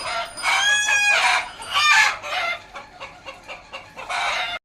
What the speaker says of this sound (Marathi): सरांनी पहिल्याच अटेम्प्टमध्ये कोंबडा पकडला